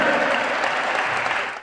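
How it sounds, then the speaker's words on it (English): Audience applause welcoming former NBA player Chris Herren to a speaking event, a loud, dense, even roar of clapping that carries steadily throughout and tapers slightly at the end. "a nice round of applause"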